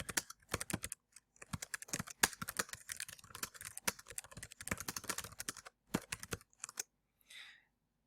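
Typing on a computer keyboard, a run of quick, close, fairly loud key clicks with brief pauses between bursts, ending in near silence with a faint rustle.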